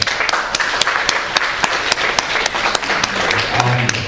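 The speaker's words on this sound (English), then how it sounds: "Can we give him a round of applause?" Audience applause for a debate speaker at an atheism versus Islam debate, a steady wash of clapping with sharp individual claps standing out, fairly close and loud, with faint voices murmuring underneath.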